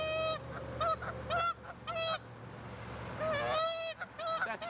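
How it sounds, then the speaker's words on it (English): A goose honks repeatedly in harmonic, nasal calls, several honks in quick runs with short pauses, set against a steady low background hum. "Tell me, Mother Goose, what's it like being kicked while you're sleeping?"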